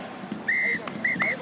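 Referee's whistle during a French Top 14 rugby match between La Rochelle and Toulon, two shrill blasts, a long one then a shorter pair, over crowd murmur.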